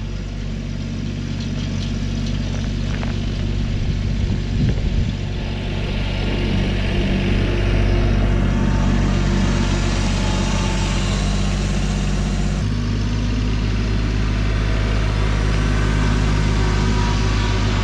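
A farm tractor engine warms up and idles on a winter morning, a steady low rumbling drone that holds close and constant, shifting pitch slightly partway through.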